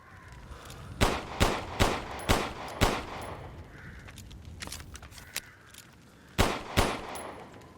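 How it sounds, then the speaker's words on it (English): Video game gunfire: a quick burst of five warning shots, then scattered softer pops and thuds, then two more shots with small explosives. "let's see how the Duke reacts to a couple of warning shots and some small explosives."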